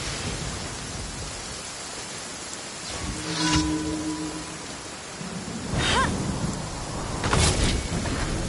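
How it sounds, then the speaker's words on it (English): Heavy rain pours down as a steady, dense broadband hiss, with a few brief louder swells and bursts rising over the downpour. "Quite a downpour."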